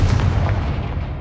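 Confringo fire spell blast in the Hogwarts Legacy video game: a single loud, close, booming burst that fills the short moment and rumbles heavily in the low end before fading slightly.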